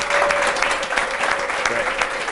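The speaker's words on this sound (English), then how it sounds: "another round of applause today for every speech so far, everybody" Steady, dense applause from a workshop audience, continuous and fairly loud throughout with a few voices mixed into the crowd.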